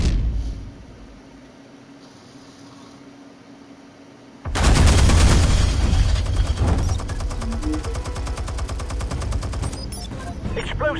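Gunfire and explosions in a Batman video game erupt after several quiet seconds, a loud sustained barrage of rapid shots and blasts that continues to the end.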